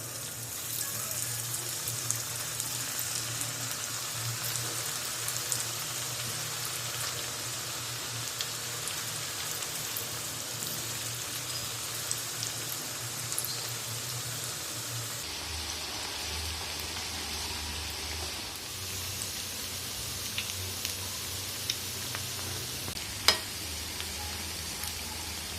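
Onion pakoda frying in oil over a low flame, a steady, even sizzle that hisses continuously like light rain and softens slightly partway through.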